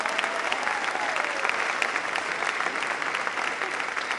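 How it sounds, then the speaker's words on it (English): A crowd at a Long Island political event applauds a senator, sustained, even clapping from many hands filling the room for several seconds, with faint voices beneath. "Let's give him a big round of applause."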